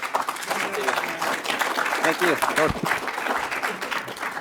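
Audience applause at a conservative policy summit panel, a steady wash of clapping across the room that fills the whole stretch while someone speaks briefly over it.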